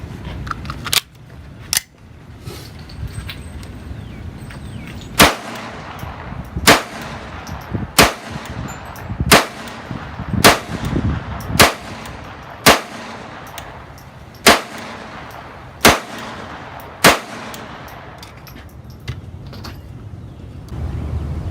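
A brand-new ATI GSG Firefly pistol fires a long series of sharp, loud, unsuppressed shots, spaced roughly one to two seconds apart with some quicker pairs, ringing out over a steady outdoor background.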